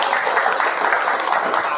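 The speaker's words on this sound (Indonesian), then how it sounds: "tepuk tangan untuk kita semuanya" Crowd applause after a speech at an Indonesian public gathering: a brief, steady burst of dense, even clapping.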